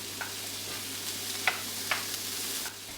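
Onions and shallots sizzle in rendered bacon fat in a pan on the stove, a soft, steady frying hiss at low volume broken by a few sharp stirring clicks and scrapes.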